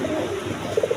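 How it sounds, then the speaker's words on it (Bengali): Male pigeons of the snake-eyed variety cooing on a farm, a few soft, rounded coos rising near the end over a steady low background hum. "দেখেন কীরকম ডাকা ডাকতেছে, সাপ চোখের কবুতর"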